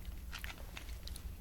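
Crunchy candy, chewier than Nerds, is bitten and chewed up close, with a run of soft irregular crunches and mouth sounds in a quiet room.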